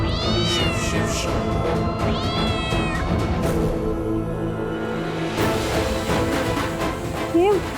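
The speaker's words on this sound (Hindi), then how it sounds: "ये बिल्ली कहाँ से आई?" A house cat meows twice in quick drawn-out cries near the start, fairly close indoors, followed by busy background music and a brief voice near the end.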